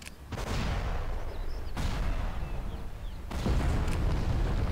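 Weapons fire from game units in Awakening of the Rebellion, a dense, sustained barrage of booms and blasts with heavy low rumble, renewed by fresh volleys near the start, middle and end.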